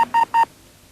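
Three short electronic touch-tone telephone dialing beeps in quick succession, clean and close, heard alone with no voices, from a mid-1980s Australian TV commercial.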